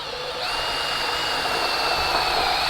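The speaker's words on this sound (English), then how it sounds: "So for this task, you will need a fairly long drill head" A long drill bit bores into a wooden cabin foundation beam, a steady loud whine holding throughout, nearby and without talk.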